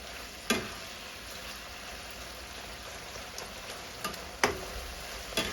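Pork frying in a pan at home, a steady soft sizzle with a few sharp pops and crackles standing out, heard alone without talk.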